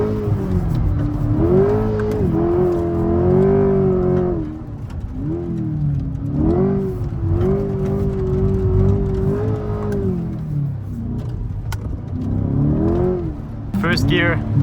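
A Corvette C8 accelerating hard in first gear, its engine rising in rising and falling pitch sweeps, loud and close, with someone talking over the engine noise.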